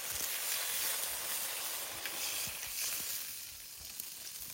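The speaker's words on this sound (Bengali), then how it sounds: "আর এখন দিয়ে দেবো জল।" Water going into a pan of lightly fried sour chukor fruit, a steady hot sizzle and hiss that stays loud throughout with no talking.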